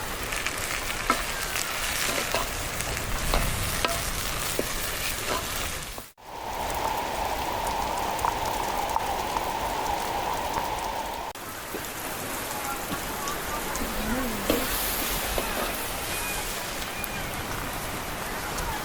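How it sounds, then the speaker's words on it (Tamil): Continuous rain falling outdoors on the first day of Purattasi, a steady patter and hiss for nearly twenty seconds, with a brief dropout and faint background noise partway through. "அந்த மழை துளிக்கிறதுக்கு நனைஞ்சுக்கிட்டே வீடியோ எடுக்கிறதுக்கு"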